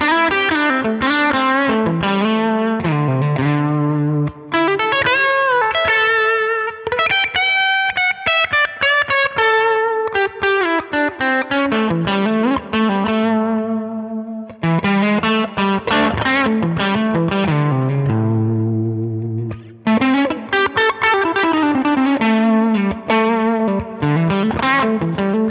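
An electric guitar runs through a Line 6 Helix LA Studio Comp compressor, playing sustained melodic phrases with light gain reduction, loud and alone with brief pauses between passages.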